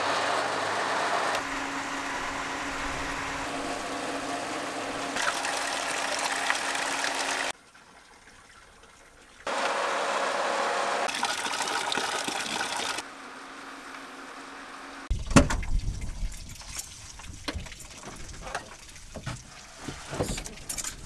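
A pump runs at about 3.5 bar, filling a camper truck's tank with drinking water from a mountain source in Greece. It makes a steady broadband rush that cuts out and restarts several times, then gives way to uneven clattering near the end.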